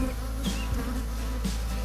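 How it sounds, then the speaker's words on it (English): Honeybees droning steadily during a beehive split, a dense, continuous close-up buzz with small bursts as frames are brushed. "what I like to do is kind of brush the bees a little bit, but that usually gets them all angry"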